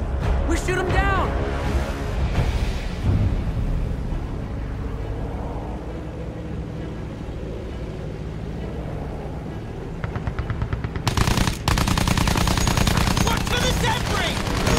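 Machine-gun fire aimed at German aircraft during a Battlefield 1 flight mission, heard as sustained rattling bursts amid engine drone and battle noise, with a voice speaking early on and a louder burst of firing near the end.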